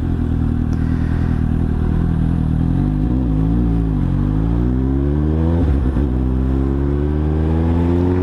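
A Suzuki GSX-S750 motorcycle engine revs and accelerates close by, its pitch climbing and falling in several rising sweeps over a steady, loud mechanical drone.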